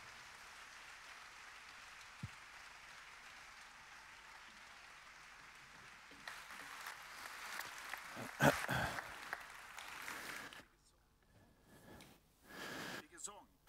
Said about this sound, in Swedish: Varm applåd för musiker,